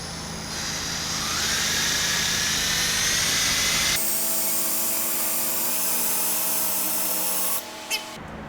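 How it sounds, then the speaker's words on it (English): An eraser wheel on a power tool strips badge adhesive from a car's paint, giving a loud, steady high whine that shifts to a lower, smoother drone partway through before stopping near the end. "Then you take your eraser wheel. You want to go this way."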